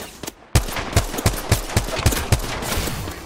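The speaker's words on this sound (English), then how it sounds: "Taking fire." Rapid gunfire in the video game Apex Legends: a close, loud burst of about eight evenly spaced shots in quick rhythm, after a couple of fainter pops, with no voices.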